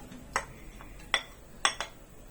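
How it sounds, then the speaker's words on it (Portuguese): Chopped calabresa sausage drops into a nonstick pan with a few sharp clinks and brief sizzling crackles, spaced irregularly, close and fairly quiet against a low kitchen background. "Vou jogar a calabresa picada."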